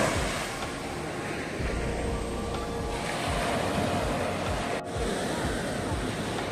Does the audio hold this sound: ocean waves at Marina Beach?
yes